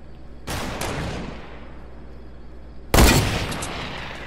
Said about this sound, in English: I get hit with the assault rifle and I die.